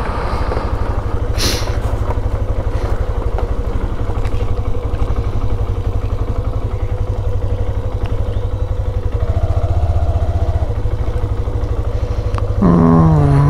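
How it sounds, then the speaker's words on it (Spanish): A motorcycle engine idles nearby at night in Tilcara, Jujuy, Argentina, with a steady low putter and faint mechanical clatter, holding an even level until a brief higher noise at the end. "Esa moto la vi."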